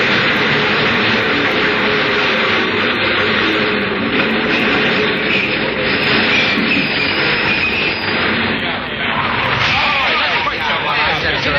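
A subway train roars steadily through a tunnel in the 1947 radio drama Suspense, a loud continuous rumble with rising and falling rushing noise.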